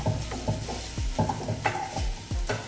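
Mashed potato for cheese balls, mixed with a spoon in a pot, makes repeated scraping thumps in a steady rhythm of about two strokes per second, close and moderately loud.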